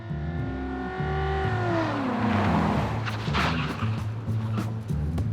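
The Beast, the armored US presidential limousine, swerves through a zigzag ambush-simulation driving test. A steady engine drone shifts and falls in pitch, then gives way to rising road and tire noise, with no voices.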